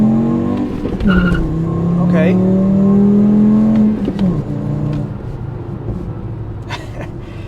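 A 2.5L VW Rabbit with a performance tune accelerates hard through the gears, its engine note rising steadily and loudly with a brief dip at a shift. A voice speaks briefly over it.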